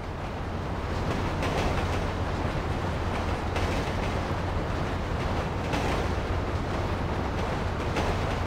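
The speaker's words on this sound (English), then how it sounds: "Train ain't stopping here, boys!" A train in the video game GTA 5 rumbles past at speed, a loud, steady low roar with a faint rhythmic rattle that holds constant throughout, with no voices.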